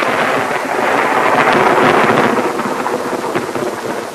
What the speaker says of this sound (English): During the night, a storm had swept over the camp.